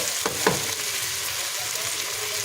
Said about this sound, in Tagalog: Igigisa pa natin mga 5 minutes.